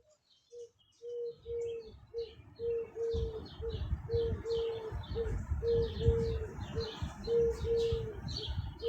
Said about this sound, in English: I mean, there's a lot of birds.